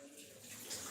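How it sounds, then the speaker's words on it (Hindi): Coriander leaves are washed under running tap water, a brief, faint splashing rush of water in a home kitchen. "तो धनिया पत्ती को भी मैं धो लेती हूँ अच्छे से,"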